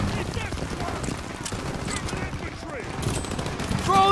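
Suppressive gunfire in the video game Call of Duty WW2, a dense, continuous rattle of rifle and machine-gun shots in a battle scene with shouting voices over it.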